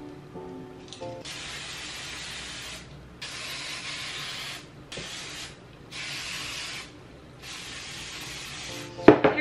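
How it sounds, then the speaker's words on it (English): Hairspray sprayed onto hair styled for a Bride of Chucky look, heard as five steady hissing aerosol bursts of about a second or two each, separated by short pauses, fairly close, ending with a louder rattle. "Hairspray is my setting spray today."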